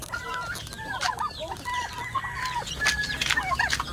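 Turkeys on a farm cluck and gobble in a busy chorus of overlapping calls, close and steady, with several birds sounding at once.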